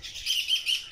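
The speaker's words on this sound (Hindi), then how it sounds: "वो देखें जी कितने खूबसूरत रेड कलर के तोते" Red parrots calling in an aviary bird collection, a quick series of shrill, close chirps repeating in a steady rhythm.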